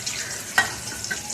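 Fish fries in a pan at home until crisp, giving a brief soft sizzle with a light stirring scrape in the middle.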